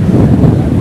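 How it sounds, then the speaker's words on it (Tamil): Strong wind buffets the microphone at Malpe Beach in Udupi, a loud, steady low roar with gusty rumble and no voices over it. "இங்கே பாருங்க காற்று செம்மையாக அடிக்குதுங்க."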